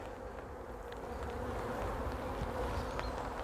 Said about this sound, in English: and then we need some bees